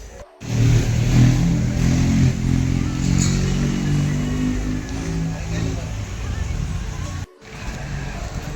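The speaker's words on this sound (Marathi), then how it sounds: "गाडीचा आवाज येतो आहे" A car engine drones steadily at close range, with rising and falling revs through most of the stretch, sharply cut off twice, while voices talk over it.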